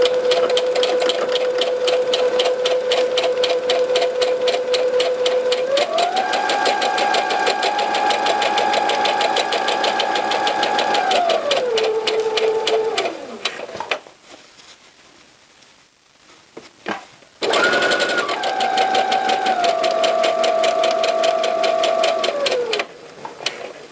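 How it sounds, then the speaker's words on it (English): A sewing machine runs a regular straight stitch through fabric along a 5/8 inch seam on cropped pants, a steady close whir that shifts speed midway, pauses briefly, then resumes for a second run, with no talking. "Now we're going to go and insert a regular straight stitch."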